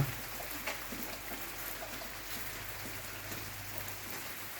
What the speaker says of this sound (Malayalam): നല്ല മഴയാണ് വരുന്നത്